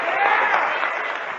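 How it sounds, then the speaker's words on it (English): A lecture audience applauds at an evening talk on psychedelic drugs, a brief, smooth burst of many hands clapping that stays even and fairly loud. "How about a round of applause for Robert Anton Wilson?"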